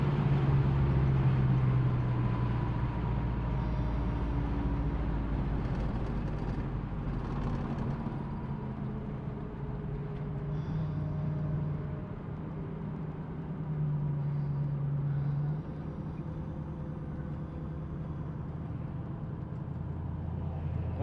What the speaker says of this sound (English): Just a short run on the freeway so you can see how well it runs and drives.